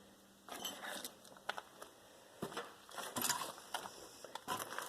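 An old all-aluminum tappet valve cover handled among piles of junk, producing scattered light metallic clinks, knocks and scraping rattles at close range.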